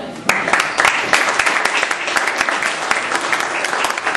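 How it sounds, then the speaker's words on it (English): A comedy audience gives a comedian loud, sustained applause, with crisp, dense clapping that starts abruptly and carries on, a few voices mixed in underneath. "Please put your hands together for Mr. Jason Hillman."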